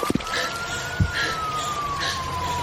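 An ambulance siren wails steadily as a long sustained tone, moderately loud and fairly close, with a couple of brief low thumps near the start and no talking.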